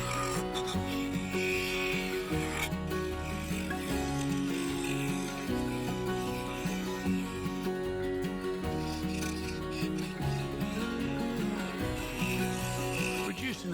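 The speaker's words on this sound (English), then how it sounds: "I could easily cut away the Sapele segments" Bowl gouge cutting a segmented Sapele wood bowl on a spinning lathe, giving a steady, continuous scraping and ratcheting whir with a low mechanical hum underneath, close and sustained throughout.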